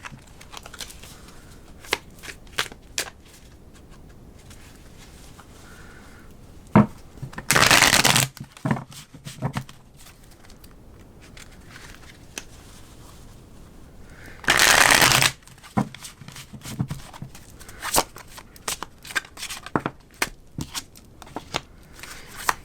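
A deck of tarot cards is shuffled repeatedly, with fast riffling bursts and two longer, louder cascades, set among soft card taps and handling noises, close by and with no talk.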